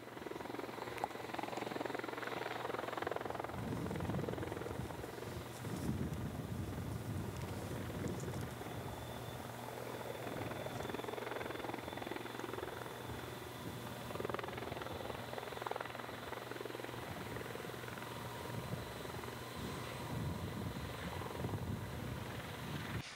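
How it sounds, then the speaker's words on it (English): Bell V-280 Valor tiltrotor aircraft hovering low in varying wind, its steady rotor roar continuous and fairly distant, with wind buffeting the microphone throughout. "it does represent the controllability of the aircraft, coupling lateral and yaw motion in low hover with varying wind direction"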